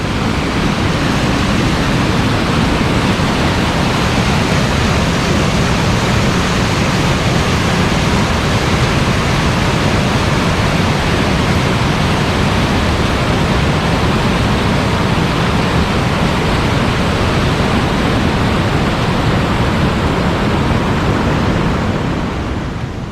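River water pours over a smooth, partly man-made, partly natural ledge drop on the South Branch of the Harris River, making a loud, steady broadband roar close by that continues unbroken throughout, with no voices.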